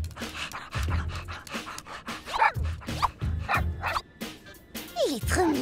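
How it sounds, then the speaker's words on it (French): Small dog panting in quick breathy bursts with a few short yips and barks, close and fairly soft, broken into uneven rhythmic puffs with brief pauses. "Voyons son petit toutou."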